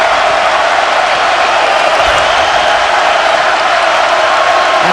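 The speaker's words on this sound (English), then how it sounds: "And of course the crowd just loving it, and the Tigers just unable to get the crowd out of it." A packed arena crowd at an LSU versus Washington college basketball game roars with a loud, sustained cheer that stays steady throughout, with no distinct voice standing out.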